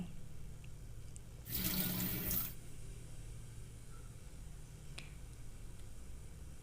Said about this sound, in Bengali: আমি কষলে কষলে ভালোভাবে চালটা ধুয়ে নিচ্ছি এভাবে তিন চারবার